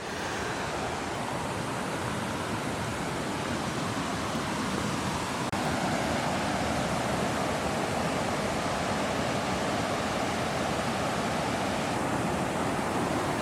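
Water pours into a canal in Chester, making a steady, moderately loud rushing wash of broadband noise that stays even throughout, with no voices.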